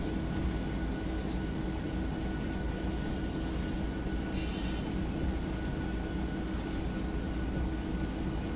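An early-morning rock freight train, K710, rolling past toward Junction City, Georgia, a steady broad rumble of wagons with a faint high tone and a few brief squeals, moderately distant and continuous throughout.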